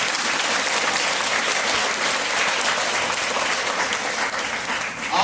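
A church congregation applauds loudly for the Lord, a thick continuous roar of many hands clapping that holds steady for several seconds before easing slightly at the end.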